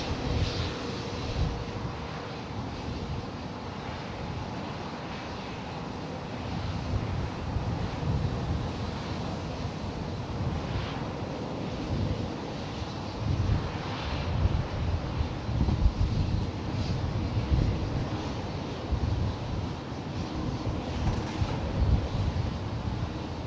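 An airplane at San Jose International Airport produces a steady, broad roar that swells and fades, with wind noise on the microphone and no talking.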